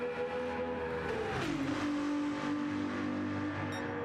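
A race car, a Porsche or Ferrari in an endurance racing video game, roars past with its engine pitch sweeping downward as it goes by, then a steady engine drone carries on.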